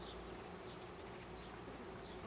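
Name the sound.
honey bees buzzing during beehive inspection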